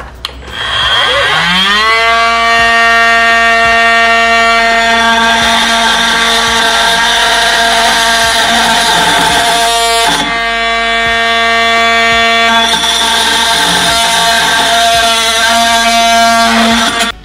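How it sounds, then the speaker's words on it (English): An oscillating multi-tool with a metal blade saws through Honda Prelude power steering lines, a loud, steady, high-pitched buzz holding for about sixteen seconds with a brief dip near the middle. "Okay, so the multi-tool worked pretty well for cutting those."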